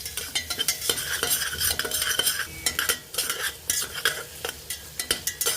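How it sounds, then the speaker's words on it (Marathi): Onions with two spoons of salt frying and browning in a pan, a continuous crackling sizzle broken by repeated scraping stirs of a utensil, close and fairly loud, with no voices. "बघा कांदा आपला आता छान शिजत आलेला आहे लालसर झालेला आहे"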